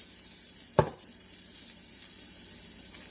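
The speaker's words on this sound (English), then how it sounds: "We get a nice sizzle." Scallops hit a hot pan with a sharp tap, followed by a steady, quiet sizzle of frying that continues evenly.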